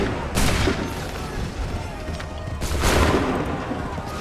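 Two loud volleys of massed musket gunfire from Assassin's Creed 3, each a dense crackling burst of many shots, separated by a short pause with rumbling battle ambience.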